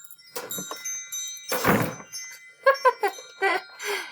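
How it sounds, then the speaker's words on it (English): A wind chime sets off a few bright, ringing metallic tones in a classroom setting, scattered and close, mixed with a dull bump and brief voice sounds. "we have our wind chime going off right now"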